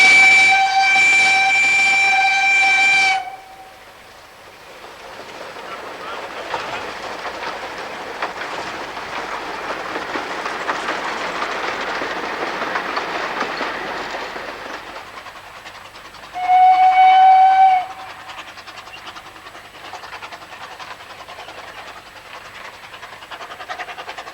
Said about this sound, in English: This engine, Maid Marian, is one of 2 De Norwich engines on the line